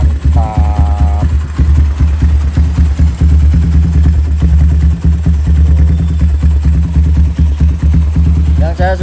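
A motorcycle engine idles steadily up close, its exhaust giving off a deep, bassy, throbbing rumble with a slight rattle.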